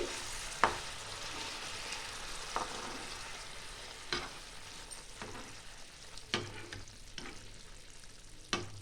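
Pieces of bhola fish sizzle in a pan after being turned over, a steady frying hiss broken by several sharp scrapes or clicks of a spatula against the pan, with no talking.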